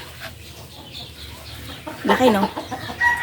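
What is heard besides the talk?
hen clucking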